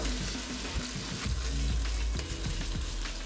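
Chipotle meatballs searing in hot oil in a pot, a continuous close crackling sizzle with soft bumps and clinks as the pieces are moved around, and no one talking.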